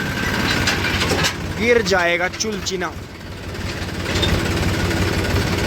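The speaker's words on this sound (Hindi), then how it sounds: "अब दूसरे गियर में लेकर चलेंगे ट्रैक्टर को" A tractor engine runs steadily in second gear, a low rumbling chug that continues throughout with a person speaking over it.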